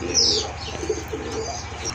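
Pink-beaked pigeons coo softly and continuously nearby, a low murmuring hum, with a brief chirp at the start.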